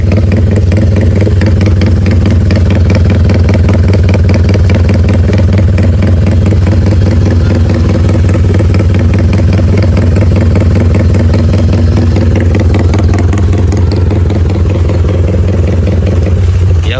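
A motorcycle engine idling with no throttle, close and loud, a steady low thumping rumble with mechanical clatter that holds even throughout, with no talking.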